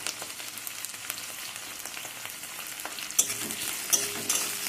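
Garlic and onion frying together in a pan for a Bengali pea, egg and potato ghugni, a steady crackling sizzle with occasional louder spatters and stirring scrapes, no voices.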